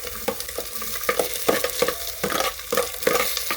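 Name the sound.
chopped onions frying in tempered oil for fish curry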